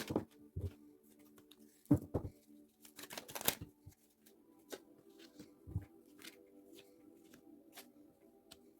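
Oracle card deck shuffled by hand in several short, crisp riffling bursts and soft slaps, close and fairly quiet with pauses between, no talking.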